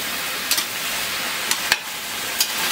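Vegetables for aviyal sautéing in a pan, a steady sizzling hiss with a few sharp scraping clicks of stirring scattered through.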